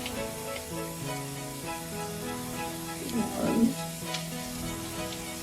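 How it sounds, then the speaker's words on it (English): Onions and King's curry powder fry and sizzle in a pan with a steady low hiss, briefly louder as they are stirred together, under a faint spoken word. "then just cook it. Just mix it together with the onions."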